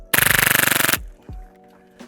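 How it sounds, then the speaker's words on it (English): Lancer Tactical Cthulhu airsoft gas blowback pistol, with frost built up inside, fires a rapid burst of about fifteen sharp, even cracks in under a second, followed by a couple of faint mechanical clicks. "when I charge it, it'll fire."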